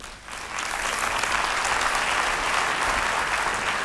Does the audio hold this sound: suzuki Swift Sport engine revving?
no